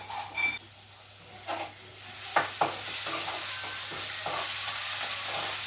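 Tomatoes fry with onions and ginger paste in a pan for tomato rice, a soft sizzle that swells louder, broken by a few clinks and stirring scrapes, with no talking.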